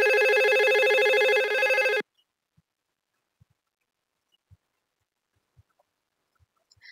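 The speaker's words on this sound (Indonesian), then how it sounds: "Kita coba telepon di IP phone pertama di switch yang pertama." An IP phone on a small office network of one router, two switches and five IP phones rings loudly and steadily for about two seconds, then cuts off abruptly, leaving near silence with a few faint, scattered clicks.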